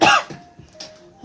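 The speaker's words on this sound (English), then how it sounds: "I feel like my cough may have gotten worse over the weekend." A sharp, loud cough from a person with a worsening cough bursts out at the start, followed by quieter throat sounds and faint breathy noises, with no talking.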